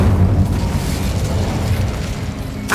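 Incendio fire spell cast in Hogwarts Legacy, a rumbling fiery burst that roars low and fades out over a couple of seconds, followed by a short bright crackle at the end.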